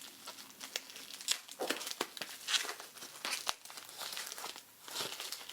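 Red paper wrapping on an advent calendar gift is torn and crumpled open up close, with irregular crinkles and tearing bursts in a quiet room.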